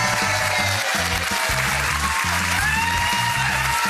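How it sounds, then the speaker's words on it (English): A game show studio audience applauds loudly and steadily throughout, with rhythmic music playing underneath the clapping. "Keep the applause going."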